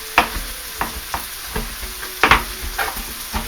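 Mushrooms sauté in a pan, loud spoon scrapes and stirs landing every half second or so over a soft sizzle, close to the microphone and with no talking.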